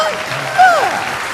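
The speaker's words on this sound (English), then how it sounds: "I think that deserves a round of applause" Church congregation applauding a pastor's 20th anniversary, a brief swell of clapping with a voice rising over it and a sliding whoop near the middle.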